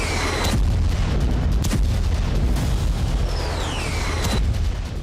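Heavy booms and blasts from Israeli air strikes on Gaza, loud and continuous with several sharp bursts cutting through a dense rumbling roar.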